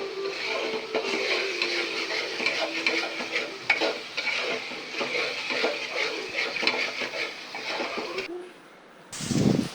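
Spice paste for a duck curry being stirred and fried in a pan, a steady sizzle with scraping spoon strokes that runs loud and continuous, then stops abruptly near the end before a brief louder clatter.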